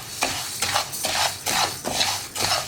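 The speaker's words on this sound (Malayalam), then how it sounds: "ഉലുവയും ഇതുപോലെ തന്നെ ലോ ഫ്ലെയിമിൽ വറുത്തെടുക്കുക." Fenugreek seeds dry-roasted in a pan on low flame, stirred in repeated scraping sweeps that rise and fall in a steady rhythm, with a faint crackle under each pass.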